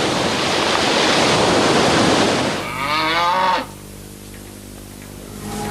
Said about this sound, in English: All our cows are Friesians